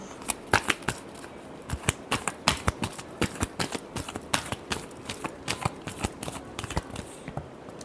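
Tarot cards are shuffled by hand in quick, uneven bursts of crisp riffling clicks and flutters, close up and fairly quiet, with no talking.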